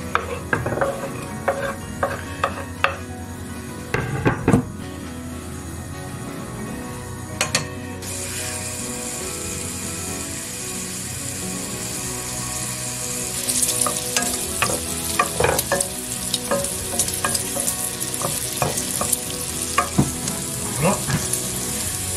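Bacon frying in butter in a pan outdoors sizzles loudly and steadily, with scraping stirs and clicks throughout, the hiss brightening partway through, no talking.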